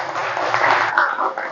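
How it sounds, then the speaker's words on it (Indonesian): A brief burst of group applause, steady clapping from a room of people in an Indonesian classroom or workshop session. "Tepuk tangan untuk kita semua,"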